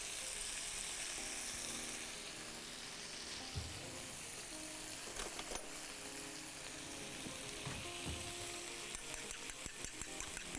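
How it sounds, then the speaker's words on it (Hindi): Beaten egg going into fried rice frying in a pan, a continuous hot sizzle with a few clinks and scraping stirs, faint overall and without talk. "अब इसमें अंडा डालेंगे फेंट के,"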